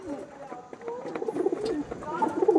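Madrasi pigeons cooing close by in a series of soft, low warbling calls, with voices talking over them throughout.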